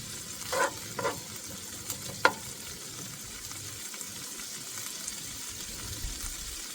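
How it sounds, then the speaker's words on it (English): Food, likely rice, sizzles steadily in a pan during outdoor cooking, a constant crackling hiss with a few sharp clinks of stirring, moderately close. "So just frying this off a bit so it gets a bit of"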